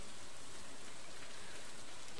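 Steady rain falls in the video game Stardew Valley, a dense even hiss of drops throughout with no voices.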